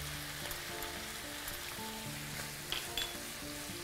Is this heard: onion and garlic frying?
yes